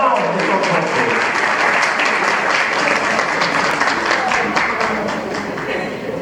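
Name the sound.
audience applause welcoming a speaker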